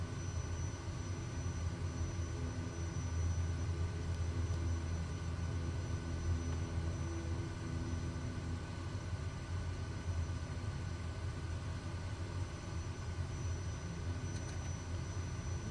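A Kodiak 100 engine drones in Microsoft Flight Simulator 2024, a constant low, rumbling hum with a faint high whine that holds steady throughout without talking.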